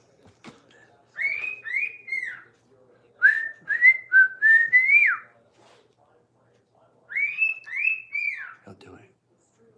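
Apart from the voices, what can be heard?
pet bird whistling a song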